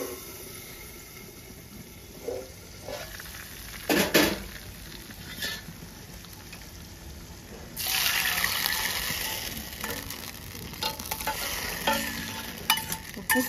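Fried pieces are dropped into tomato rasam in a pot, with splashing and stirring bursts over a quiet kitchen background and a louder wet sizzle partway through.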